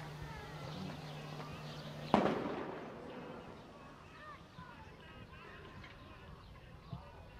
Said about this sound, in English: It's a sound bomb.